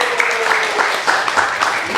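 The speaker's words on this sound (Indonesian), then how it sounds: "Tepuk tangan dulu." Loud, brisk applause from an audience at a Buddhist youth celebration, dense clapping filling the two seconds, with a voice speaking over it.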